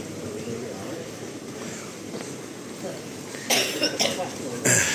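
A few sharp coughs burst out near the end, over a steady background murmur of voices and ambient noise.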